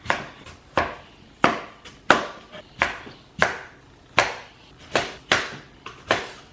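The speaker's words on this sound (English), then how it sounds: "I'm just chopping some of them into a thinner slice" Kitchen knife chopping sweet potato into thin slices on a cutting board; about a dozen sharp, close knocks in an uneven steady rhythm, each with a short ring-out, with no speech.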